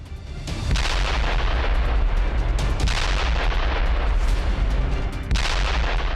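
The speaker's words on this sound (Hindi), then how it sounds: "यह धमाका रूस के FAB-3000 ग्लाइड बम ने किया है" Heavy rumbling blasts from a Russian FAB-3000 glide bomb strike in Ukraine boom out one after another, each followed by a long roaring tail, loud and close, with no voices.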